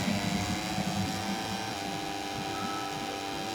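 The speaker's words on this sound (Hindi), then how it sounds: "मैं सुन सकता हूँ भाई उसकी इंजन की आवाज़ जो रॉर हो रही है पीछे से" A rival Moto3 motorcycle engine roars from behind in MotoGP 2021 gameplay at Silverstone, a steady buzzing high-revving drone that is constant and fairly loud throughout.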